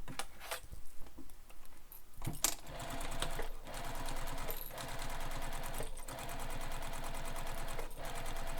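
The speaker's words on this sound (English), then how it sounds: "I'm still using my basting stitch or top stitch length for this because we are just basting it in place" Sewing machine basting a pocket onto a handbag with a long stitch length, a close, steady mechanical whirr of rapid needle ticks broken by a few short pauses and restarts, with no talking.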